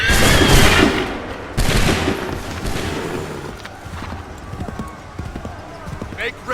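Musket volleys crack out in the Assassin's Creed III video game, a loud burst at the start and another mid-clip, with scattered shots and hoofbeats amid shouted battlefield commands.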